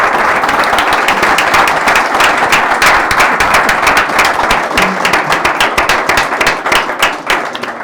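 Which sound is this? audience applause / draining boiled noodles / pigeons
audience applause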